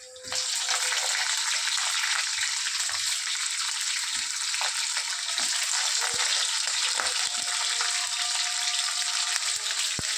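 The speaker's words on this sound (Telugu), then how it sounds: "ఎర్రగడ్డలు వేస్తాను చూడండి." Onions sizzle and fry steadily in a pan of hot oil with green chillies, curry leaves and chana dal, a continuous loud hiss with occasional small stirring clicks and no talking.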